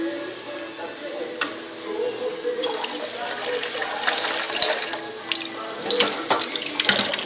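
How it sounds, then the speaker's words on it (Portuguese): Water from a kitchen tap pours steadily into a container while sauce is being made, a close, continuous rushing splash that grows slightly louder and busier toward the end, with small clinks mixed in. "Vou colocar água."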